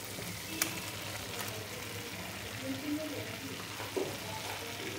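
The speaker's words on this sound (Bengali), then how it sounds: "মোটামুটি মশলা কষানো হয়ে গেছে, এবার আমি ফুলকপিগুলো দিয়ে দেবো।" Cauliflower pieces fry in a pan of cooked-down spiced masala, a steady soft sizzle with occasional stirring clinks, fairly quiet and close.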